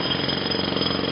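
An alien fish creature in No Man's Sky makes a harsh, rapid rattling like a jackhammer, loud and continuous for about a second.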